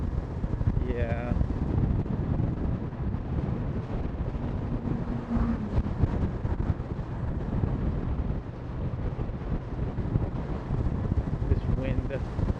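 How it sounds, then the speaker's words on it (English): Steady strong wind in Okinawa rumbles and buffets the microphone continuously, a dense low roar with faint voices and distant sounds underneath. "This wind, the wind of all winds,"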